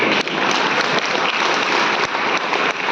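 A crowd at a religious festival gathering claps loudly and continuously for a few seconds, a dense, steady wash of applause without pause.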